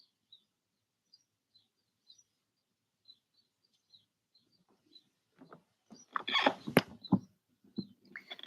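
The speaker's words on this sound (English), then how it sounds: "Listening to the birds outside" Faint, sparse bird chirps recur every second or so in a quiet space, then a busier flurry of calls and rustling builds nearby near the end.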